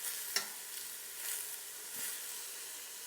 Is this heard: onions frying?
yes